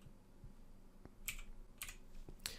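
Light, faint clicks of typing on a computer keyboard, a handful of scattered keystrokes with a few sharper taps, in a quiet room with no talk.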